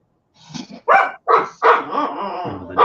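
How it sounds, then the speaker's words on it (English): Dogs bark and yip in greeting at another dog, a handful of close, loud barks in quick succession followed by softer whimpering sounds, no talking. "the dogs are saying hello to the other dog"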